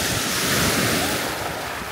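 Ocean waves break on the shore with a continuous loud roar and wash, heavy wind buffeting the microphone and no voices heard.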